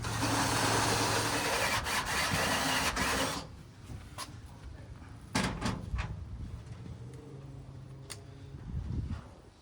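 Drill bits boring through metal in a workshop while fitting a LEDMIRCY rock light kit, a loud steady grinding rasp for several seconds that cuts out, followed by quieter scraping and clatter.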